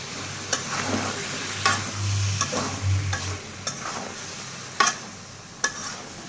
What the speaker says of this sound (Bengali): এখন বেগুন কষাবো।